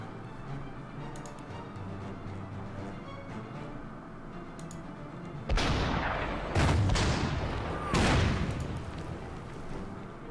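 Artillery fire in the Order of Battle: Sandstorm strategy game, a few loud booming blasts after a quieter stretch, each with a rumbling tail, heard alone without talk.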